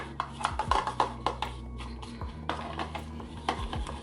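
A tool scraping and tapping against a bowl while mauve and pink hair dye are stirred together, with irregular close clinks and soft smearing strokes and no talk.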